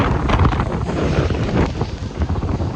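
Hurricane Sally's strong winds, around seventy miles an hour, roar and buffet right against the microphone outdoors near a hotel, a loud, continuous, gusting rush with no speech.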